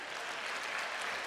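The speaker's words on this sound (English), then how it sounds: "I need some clapping from the center here" A graduation audience claps in a dense, continuous wash of applause from many hands, steady and moderately loud for a short burst, with no voices standing out.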